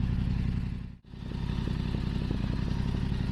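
Yamaha R7 motorcycle with an Akrapovic exhaust warming up at idle, a steady loud low rumble with a brief dip in the middle, close by and without talk.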